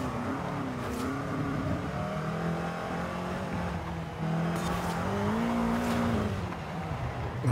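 Bubble car in Forza Horizon 5 floored at full throttle, a steady loud engine drone rising and falling in pitch with continuous revving and brief tire squeal throughout.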